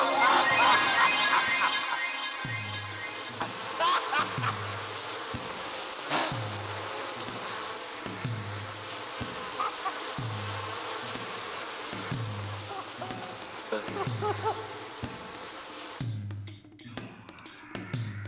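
A fly buzzes insistently and close, its whine rising and falling over a repeating low pulsing backdrop for the whole stretch, with no speech.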